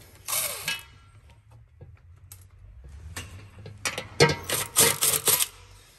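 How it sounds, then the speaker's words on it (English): Ratchet wrench clicking while removing transmission pan bolts under a Toyota Land Cruiser 100 series, quick close bursts of ratcheting, then a denser run of clicks toward the end, with no talk. "So I'm gonna go ahead and finish taking out the last few bolts here."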